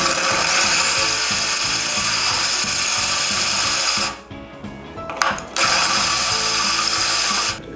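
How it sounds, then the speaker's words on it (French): A power drill slowly marking ceramic tile gives a loud, close, continuous grinding whir, briefly stopping for about a second midway, then resuming steadily. "on va venir juste commencer à percer, seulement pour faire la marque"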